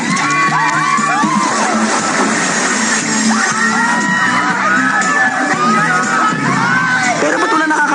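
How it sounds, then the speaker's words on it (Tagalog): A large crowd shouting and cheering at a school event, loud and continuous, with children's yells and whoops layered through a dense roar. "Sigawan kasi ng sigawan eh."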